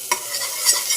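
Chopped onion frying in a pan for Punjabi mutton curry, a steady close sizzle with two brief scraping stirs of a spoon, no voices.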